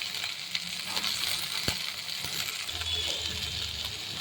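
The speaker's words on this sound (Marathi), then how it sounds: "यामध्ये आपण आता तयार केलेली चटणी घालू आणि याला तेल सुटेपर्यंत परतवून घेऊ।" Sliced onion and freshly made chutney sautéing in oil for a green rassa curry with sandage, giving a steady, moderate sizzle with a couple of sharp utensil taps against the pan and no talking.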